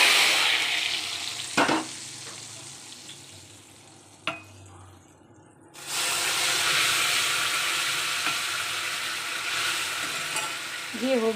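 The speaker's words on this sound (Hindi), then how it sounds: "मैंने ना कढ़ाई में ही छौंक लगा दिया है" Spices for a tempering hiss and sizzle in a kadhai, a steady close frying sound that swells sharply louder partway through, with a couple of light knocks.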